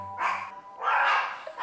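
A pet dog at home gives two loud, close barks with a pause between them, heard alone with no talking.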